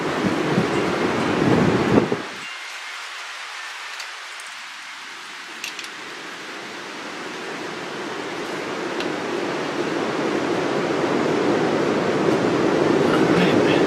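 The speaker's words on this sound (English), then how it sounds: "Serious wind blowing today." Strong wind blasts hard outdoors as a dense, roaring rush of noise, drops away briefly to a quieter lull, then builds steadily back to a loud, continuous buffeting near the microphone.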